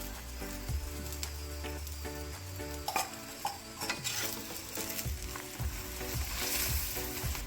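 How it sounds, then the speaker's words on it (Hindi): An aloo methi paratha fries in ghee on a hot tawa after being flipped, a steady close sizzle punctuated by scraping and spreading sounds as ghee is brushed over the second side. "अब पलटने के बाद दूसरी साइड भी घी लगा देंगे।"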